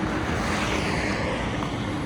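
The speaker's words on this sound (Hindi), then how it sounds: "बादल छाए हुए हैं, ठंडी ठंडी हवा चल रही है" Cold wind blowing steadily outdoors under an overcast sky on a long roadside walking pilgrimage near Shahapura, Jaipur, a continuous broadband rush with no breaks, close to the microphone and loud.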